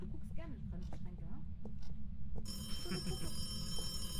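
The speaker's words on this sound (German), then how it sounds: "Neben der Küche hat's Telefon geklingelt." A telephone rings in the ghost-hunting horror game Phasmophobia, its bright, steady electronic ring starting partway through over low background rumble, with a voice heard before it.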